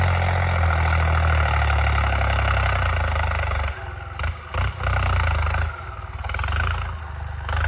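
A turbocharged TT3.50 Plus engine runs steadily, a loud, close droning rumble that dips briefly and swells again partway through, with no talking.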